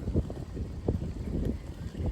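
Wind buffeting the front of a Georgian house with no wall for shelter, low gusty rumble and microphone buffeting in uneven bursts.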